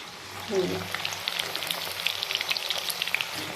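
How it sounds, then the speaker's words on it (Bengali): Chicken pakoras for chilli chicken fry in hot oil, a steady close sizzle with crackling pops and spits layered over a soft hiss, continuous and moderately quiet. "এই যে চিকেন পকোড়া ভাজা চলছে চিলি চিকেনের জন্য"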